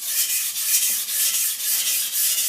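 A knife is sharpened on a Shapton Ceramic Pro whetstone, with close, rhythmic rasping strokes repeating about twice a second, steady and fairly loud with no talking.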